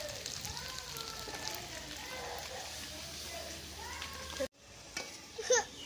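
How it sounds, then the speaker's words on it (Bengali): Steady sizzling of potatoes frying in hot oil fills the background, with a brief break near the end followed by a couple of clinks. "আলু ভাজা হচ্ছে, আলু ভাজা।"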